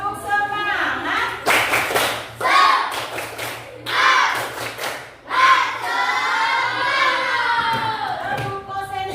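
A class of young children at school does a rhythmic clapping chant, bursts of hand claps alternating with their shouted, sing-song voices, loud and close throughout.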